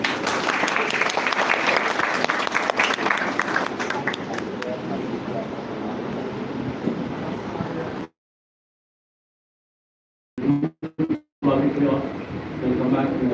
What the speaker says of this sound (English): with a round of small applause, let us welcome